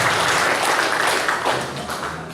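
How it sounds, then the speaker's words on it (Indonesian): An audience at a PKB church fellowship gathering in South Sulawesi breaks into a brief, dense burst of clapping that fades slightly over two seconds. "tepuk tangan buat kita semua"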